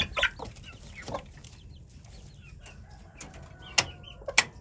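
Baby chicks in a home brooder in a backyard flock setup, soft peeping and a few sharp chirps rising over a quiet background, close by, with louder cheeps near the end.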